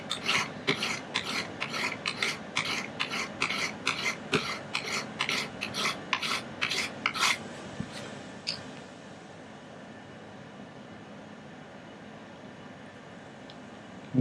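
A blade is drawn across a 600 grit sharpening stone in about fifteen quick, rhythmic rasping strokes, close and clear, before the scraping stops and only faint room noise remains.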